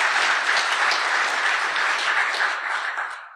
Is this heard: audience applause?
yes